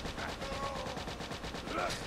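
A high-damage gun in the game Geared firing in a fast, regular burst of shots, moderately loud against game background sounds, with faint voice-like tones mixed in.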